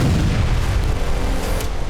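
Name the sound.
explosion in Kovalivka, Luhansk, in war news footage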